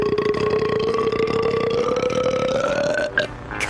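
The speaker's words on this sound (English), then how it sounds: "Burping contest." Female cartoon character letting out one long, loud, continuous burp during a burping contest, rising slowly in pitch for about three seconds before breaking off, heard alone with no talking.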